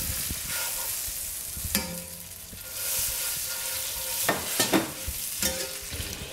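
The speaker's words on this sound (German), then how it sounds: "Da geben wir jetzt dazu ein kleines Stück Butter." A small piece of butter melts in a hot pan over lowered heat, giving a continuous close sizzling hiss punctuated by occasional scrapes and knocks of a utensil, with nobody speaking.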